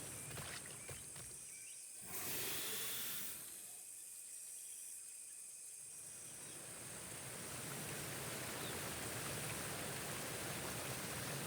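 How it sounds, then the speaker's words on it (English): A roaring waterfall in the dinosaur survival game The Isle, a broad, steady rush of falling water that swells louder toward the end, with no voices over it. "Sounds like a waterfall."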